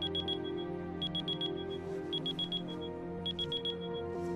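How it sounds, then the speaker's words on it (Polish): Kitchen timer ringing in the video game Heavy Rain, sounding as bursts of rapid high-pitched electronic beeps that repeat in groups over a steady low background hum. "Minutnik."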